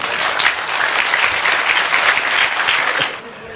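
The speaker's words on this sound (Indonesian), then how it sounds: "Tepuk tangan untuk beliau ya." Applause from a large audience at a talk, loud continuous clapping that holds steady for about three seconds and then tapers off quickly, with no speech over it.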